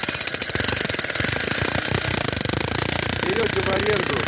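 Close, loud jackhammer driving profile-pipe piles into soil for a greenhouse, a continuous rapid pounding rattle that holds steady throughout with no other sounds over it.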